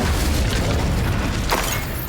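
A sustained roaring fire blast from the Incendio spell in Hogwarts Legacy, a dense, loud whoosh through the whole span with a brief flare near the end.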